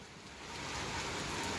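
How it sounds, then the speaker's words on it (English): Rain falling at night, a steady broadband hiss that swells slightly over a brief stretch, with no voices. "This is a rainy night."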